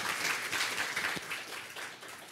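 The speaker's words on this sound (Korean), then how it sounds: "뜨거운 박수로 맞이해 주시기 바랍니다" An audience applauds as a nursing and health college dean walks to the podium at a university launch ceremony. The clapping is steady and moderately loud throughout, tapers slightly toward the end, and no one speaks over it.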